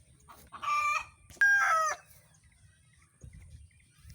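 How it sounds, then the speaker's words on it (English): Bantam chickens clucking and a rooster crowing in a farmyard, with two loud bursts of calls close by, a short clucking sound followed by a strong crow, then faint low shuffling. "I'm down here with the bantams now"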